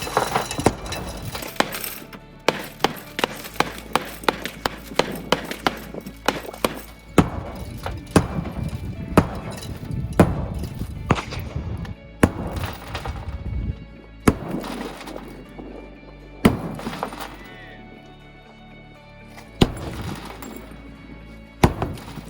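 A sledgehammer pounds ballistic riot glass in a long barrage of loud, sharp impacts with cracking and crunching, and bursts of tinkling debris between some blows.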